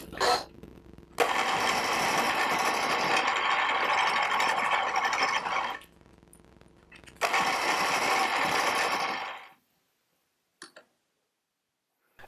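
A milling machine cuts metal with a 4 flute cutter in two long, steady grinding passes with a short quieter pause between, close and fairly loud, then stops into near silence with a couple of faint clicks.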